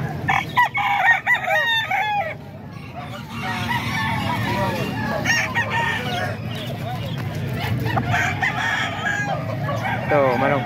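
A gamecock stag rooster, an Ormoc Gold bird, crows repeatedly at close range while someone talks over it and other fowl cluck around a farm yard.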